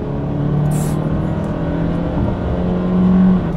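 A Hyundai Kauai pulls hard in fourth gear on the road, its engine a steady loud drone that builds slightly toward the end, with no talk over it.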